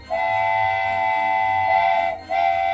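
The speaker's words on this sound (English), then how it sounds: "All too soon, it was time for the train and Frosty to leave." A train in a read-aloud Frosty the Snowman story sounds a sustained whistle with a steady rumble beneath, briefly dipping before the tone returns, loud and alone with no talk.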